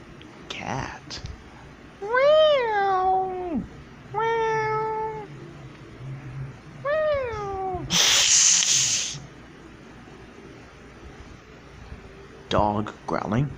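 A human voice imitates a cat meowing, giving about four drawn-out, rising-and-falling meows at close range, with breathy bursts and short vocal noises between them.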